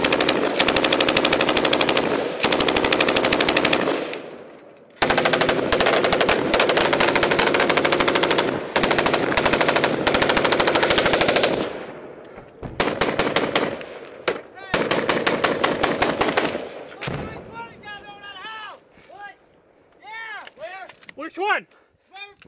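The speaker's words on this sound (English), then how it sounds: "I think they're shooting." Combat gunfire in Afghanistan: long loud bursts of automatic fire alternate with rapid single shots, nearby and heavy, with voices shouting between and under the firing.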